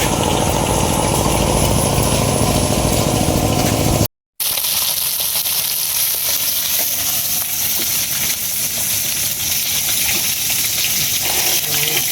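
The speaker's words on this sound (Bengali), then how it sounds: "আমাদের বাড়ির সামনে অনকালি পাওয়ার টিলারের শব্দ" A power tiller engine chugs steadily nearby, then after a brief cut a noisier, rushing mechanical drone continues to the end.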